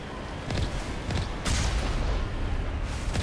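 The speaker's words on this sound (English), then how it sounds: "We have machine gun fire." Combat fire from a vehicle in the game Mass Effect, muffled booming shots and bursts over a steady rumble, moderately loud with a few stronger hits spread through a few seconds.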